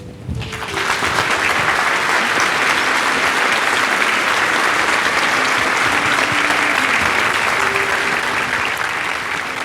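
Audience at the Shrine of St. Gianna Beretta Molla in Winnipeg breaks into sustained, loud applause welcoming Dr. Gianna Emanuela Molla, a dense steady clapping that fills the room for nearly ten seconds with no speech.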